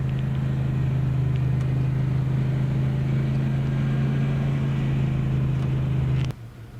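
A vehicle engine labouring as it descends steep North Mountain, a loud steady low drone that drops away abruptly near the end.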